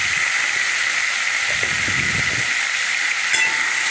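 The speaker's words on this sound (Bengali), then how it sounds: "এবার নুন হলুদ দিয়ে আলুর টুকরোগুলো ভেজে নিলাম।" Small potato pieces seasoned with salt and turmeric fry in hot oil, a steady close sizzle and hiss throughout, with faint stirring scrapes underneath.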